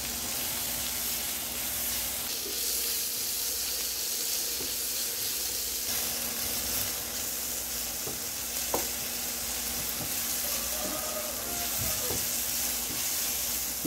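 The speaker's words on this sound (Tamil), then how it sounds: "அடுத்து கொஞ்சமாக தக்காளி போடணும்." Tomatoes sizzle steadily in a hot pan while egg fried rice is cooked, a constant close frying hiss with a few light stirring taps and scrapes, no talking.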